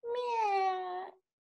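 A person's voice imitates a cat meow: a single drawn-out, close, clear 'meow' of just over a second, alone, then silence.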